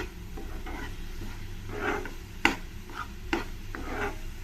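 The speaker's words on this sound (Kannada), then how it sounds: "ಕೈ ಬಿಡದೆ ಇರೋ ಹಾಗೆ ತಿರುಗಿಸ್ತಾ ಇರಬೇಕು ನೋಡಿ" A coconut and sugar mixture is stirred continuously in a pan as the sugar melts and releases its water. Soft scraping and gentle sizzling repeat in a slow rhythm, with a few sharp clacks of the spoon against the pan.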